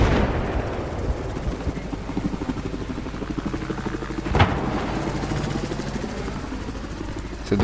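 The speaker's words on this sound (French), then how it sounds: "Ah oui, l'hélico qui arrive par derrière." A video game helicopter approaches, its rotor thudding steadily under bursts of gunfire, with a sharp impact partway through.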